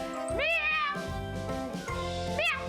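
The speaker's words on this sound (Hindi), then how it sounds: "आप ये देख रहे हैं ये कितना शानदार किस्म का बिल्ला है।" A large male cat lets out two long, rising meows, one near the start and a shorter one near the end, loud and close over a steady background hum.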